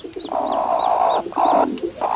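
Newly hatched goslings peep in short, repeated high chirps over a steady, loud rushing noise, likely a nearby incubator or fan, with the calls continuing through most of the span.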